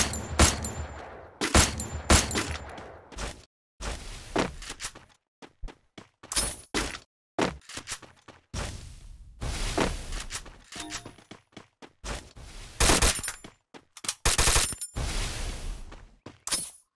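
Bursts of rapid gunfire in Free Fire crackle in short volleys with brief silent gaps, harsh and close, mixed with sharp shattering impacts.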